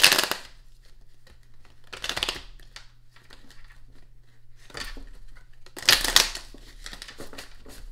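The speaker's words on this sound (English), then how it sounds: "I gotta mix these cards up real good" Tarot cards are shuffled by hand in a few separate bursts of crisp riffling and sliding, quiet and close, with soft handling noises and a faint low hum between them.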